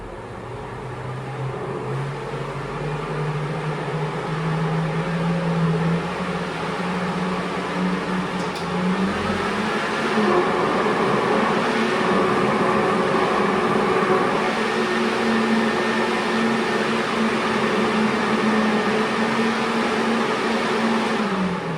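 A homemade fume extractor's fan motor runs steadily at close range, a loud continuous whir with a droning hum whose pitch shifts slightly partway through, as if switched between low and high speed.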